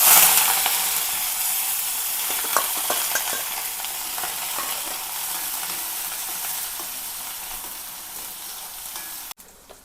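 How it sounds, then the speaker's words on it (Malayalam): Chopped onion, garlic and green chili sizzle loudly in hot oil, a steady close crackling hiss that slowly eases over the stretch and is heard alone. "ഇതിലേക്ക് ഉള്ളി, വെളുത്തുള്ളി, പച്ചമുളക് അരിഞ്ഞതാണ് ഇട്ട് കൊടുക്കാം."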